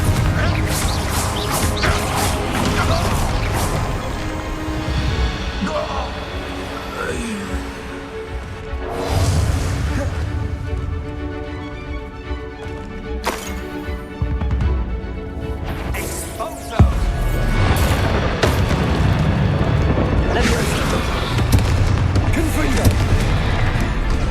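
Confringo blasting spell explosions in Hogwarts Legacy amid a busy fantasy combat scene, with repeated booms and crashes layered over game music and character shouts, a sharp blast near the middle.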